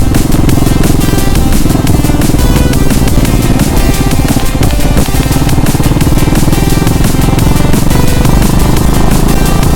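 A Yamaha R15 V3 motorcycle with a modified aftermarket exhaust roars loud and close. The engine note throbs steadily, with a rapid pulsing beat running through it and no pauses.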